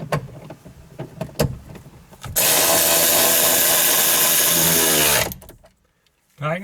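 Power tool driving bolts tight on Jeep grab handles, a loud steady whir running about three seconds, preceded by a few light clicks and handling knocks and ending abruptly into quiet.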